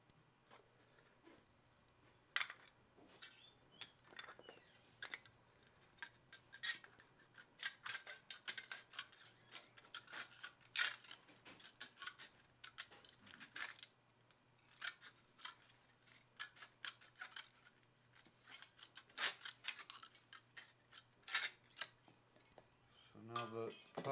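An aluminium soda can being cut with scissors for a homemade alcohol stove, a long run of close, crisp snipping and crinkling metal clicks in irregular bursts, quiet overall with no talk.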